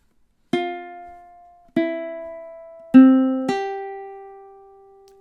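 Ukulele picking out a measure of the MASH theme melody: four clear plucked notes, each ringing and decaying, played close and alone with no talk.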